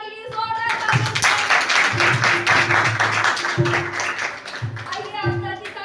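A church congregation claps loudly during a Christmas service. The applause is steady and rhythmic and lasts several seconds, while a preacher's amplified voice and some other voices speak over it.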